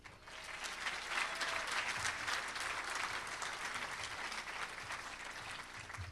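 Guests at a Riverfest commodore banquet applaud in a steady, full round of clapping that rises and then holds evenly for about six seconds, heard at a modest distance.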